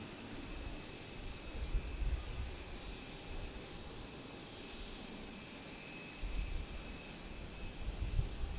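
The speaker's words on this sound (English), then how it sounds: "This Air Canada should be flight 8672 to Montreal on a Embraer." Air Canada Embraer airliner at Raleigh Durham airport, a steady broadband jet roar that holds across the whole stretch with low rumbling swells, moderately distant and alone without voices.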